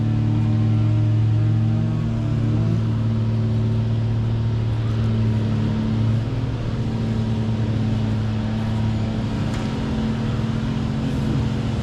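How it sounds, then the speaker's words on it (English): An Allis-Chalmers WC tractor engine runs at a steady idle at a plow days farm show, a loud, continuous low drone with even firing throughout and no talk. "Over here we got an Alice Chalmers"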